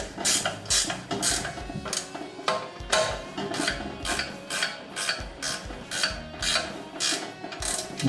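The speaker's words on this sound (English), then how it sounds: "We'll tighten up that cable clamp." A cable clamp on a Spartan Tool Model 2001 drain machine is tightened with a ratchet, giving a close, steady run of rhythmic clicking strokes.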